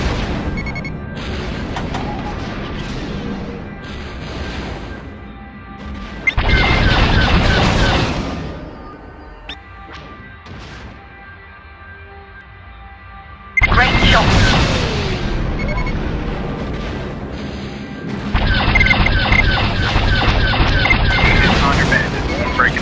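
Rebel craft explode in the TIE Fighter space combat game. Loud, broadband blasts come in three extended bursts over a steady tonal background, with quieter stretches in between.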